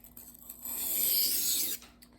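A knife blade drawn across a 1000 grit sharpening stone, one smooth rasping stroke lasting about a second, close and moderately quiet.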